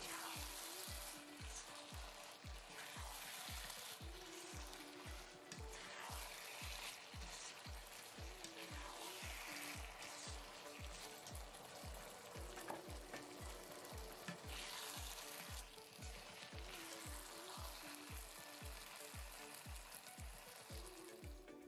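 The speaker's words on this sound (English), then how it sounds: "go in with the potato starch slurry. One last stir and we are ready to plate." Braised eggplant being stirred through a potato starch slurry in a hot pan for fish fragrant eggplant, with steady loud sizzling and a fast, regular scraping rhythm of the spatula running throughout, no voices.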